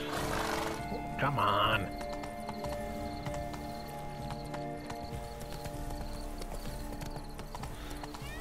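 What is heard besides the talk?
horse hooves from the video game Witcher 3: Blood and Wine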